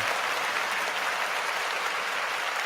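A round of applause for Fred Warner, the 49ers player, after a game-winning play against the Cardinals: dense, steady clapping that holds evenly at full strength from start to finish, with no voices over it.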